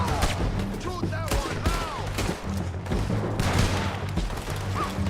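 Gunfire in the open-world western Red Dead Redemption 2, a mix of gunshots and thuds during a busy firefight, with game voices shouting over the shots.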